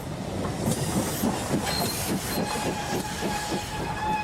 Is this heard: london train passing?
yes